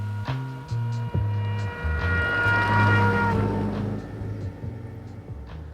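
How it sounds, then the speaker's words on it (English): A trumpet played from a passing car, its sustained tones shifting in pitch from high to lower as the car approaches and moves away, loud and near over a low engine rumble. "What you heard there was the famous Doppler effect."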